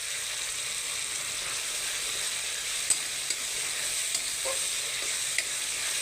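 A ginger, chili and garlic paste with a little turmeric fries in a wok, giving a steady, soft sizzle broken by a few light stirring clicks.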